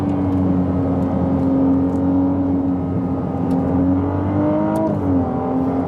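A Ferrari 296 GTB engine revving as the car accelerates on a small road, a loud, sustained, smooth engine tone rising in pitch, easing back, then climbing again near the end, heard from inside the car without talk.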